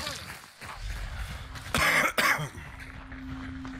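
A player coughs during Hunt: Showdown gameplay: two sharp, loud bursts close together near the middle, heard over steady low game ambience.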